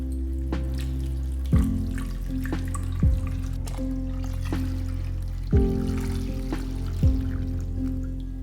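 Water runs steadily into a pot for kombu and shiitake stock, with a few hollow knocks and clanks at intervals; no voices.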